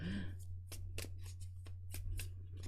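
A deck of playing cards gets shuffled close by, a run of sharp crisp riffling snaps at an uneven rhythm over a low steady hum, with a brief voice at the start.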